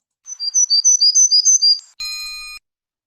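A warbler sings a quick seesaw series of alternating high and low whistled notes, clear and close, followed by a brief steady tonal beep, with no voices.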